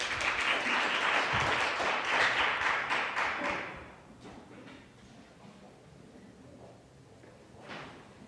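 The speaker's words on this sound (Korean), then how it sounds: "여러분 큰 박수로 환영해 주시기 바랍니다" An audience at a decentralized finance conference session applauds to welcome a presenter, with dense clapping for about four seconds that fades into quiet room tone and a few stray claps.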